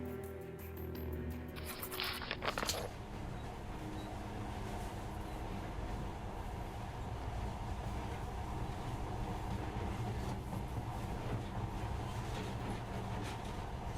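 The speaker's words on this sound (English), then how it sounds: "this monorail seems magic, doesn't it?" A monorail train in the video game Metro Last Light runs continuously, a steady loud rumble with faint rail clatter after a brief sharp start, with no voices.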